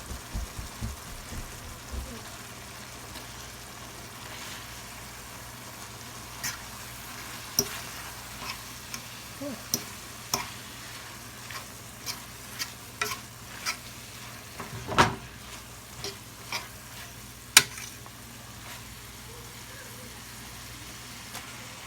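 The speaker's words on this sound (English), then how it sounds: "So now I'm gonna add my spaghetti in." Spicy fried spaghetti being stirred in a pan with vegetables, with scattered scraping and tapping clicks from the utensil over a faint steady background hiss.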